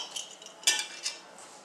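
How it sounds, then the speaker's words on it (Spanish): A spoon clinks and scrapes in a bowl of sesame and anise seeds being stirred for light pestiños, with a few brief metallic taps and one sharper clink, close and fairly quiet. "Removemos la mezcla"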